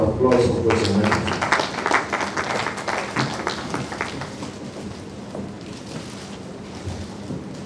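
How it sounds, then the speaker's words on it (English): An audience at a society's annual conference opening ceremony applauds Professor Onekutu with dense clapping that starts loud, then gradually thins and fades while a voice speaks over it. "A round of applause for Professor Onekutu."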